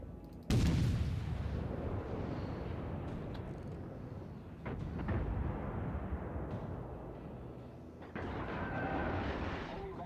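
Heavy naval guns boom in World of Warships as a warship opens fire on an enemy cruiser, a loud blast followed by sustained rumbling and a second salvo near the end, with game voice callouts over it.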